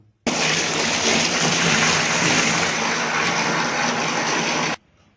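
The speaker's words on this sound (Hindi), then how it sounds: "तो मैं इसके अंदर जल्दी से जो है पानी भर देता हूं और इसके बाद आपको चेक कराता हूं" Water is poured into the tank of an AC/DC air room cooler, a loud, steady splashing rush that starts abruptly, holds for about four seconds, then cuts off, with no talking.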